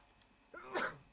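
A single quick sneeze from a person, short and fairly close, sharp at the burst and heard alone against quiet background.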